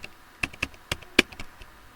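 Typing on a computer keyboard, a handful of crisp, close key taps in an uneven rhythm over a quiet background.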